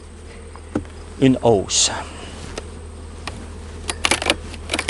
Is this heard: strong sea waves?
no